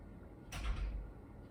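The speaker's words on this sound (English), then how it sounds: "There's a lot of doors today." A single door swings open or shut in a quiet indoor room, a brief soft thud and rustle lasting about half a second, moderately close and heard alone.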